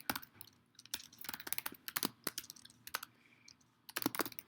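Rapid keystrokes on a computer keyboard entering a bank account name, a dense run of close clicky taps with brief pauses, then a final burst of keys, with no talking.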